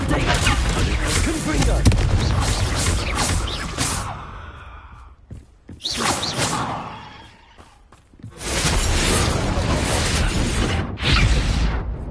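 In the video game Hogwarts Legacy, Confringo spells set off loud, booming explosions in bursts, separated by short quieter gaps, with a voice calling out between the blasts.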